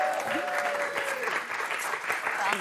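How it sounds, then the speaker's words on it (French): Studio audience applauding on a French talk show, a dense, steady patter of clapping with voices calling out over it. "C'est vrai qu'on n'applaudit pas souvent, alors que c'est trop bien."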